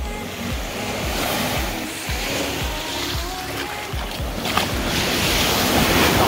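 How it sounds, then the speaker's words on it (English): Ocean waves washing onto a beach at Gili Trawangan, a steady broad surf roar with rolling swells and wind buffeting the microphone, continuous and fairly close, with no talking. "It's getting wavy. We better go before it's high tide."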